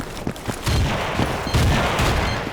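A frag grenade goes off during a Battlefield 2 video game firefight, with deep booming blasts landing twice among sharp, crackling gunfire.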